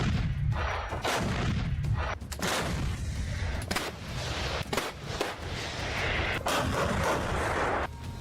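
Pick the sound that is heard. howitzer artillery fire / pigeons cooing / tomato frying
howitzer artillery fire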